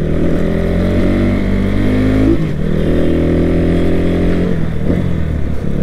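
Motorbike engine running steadily while riding in traffic, a loud continuous low drone with shifting harmonics and a brief dip in revs midway, no talking.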